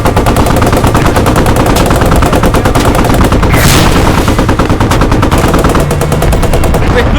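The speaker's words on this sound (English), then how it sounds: "We put up a 50 cal, Tommy!" Heavy .50 caliber machine gun in a video game firing in long, rapid continuous bursts, loud and close, with dense overlapping gunfire throughout.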